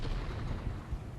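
Cannon firing canister shot in the Gettysburg strategy game Ultimate General, a dense, low rumbling boom that fills the whole short moment with no voices.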